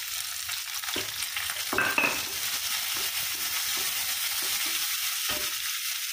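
Chopped onion, a green chili and tomato frying in a pan, a steady close sizzle with a few soft scrapes and clinks of stirring, no talking.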